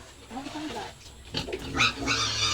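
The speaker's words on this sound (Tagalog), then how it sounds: "Kaling baboy magkaon." Pig on a farm eating and grunting at feeding time, with low grunts and rough snorting bursts alongside chewing and rustling, close by, while people talk nearby.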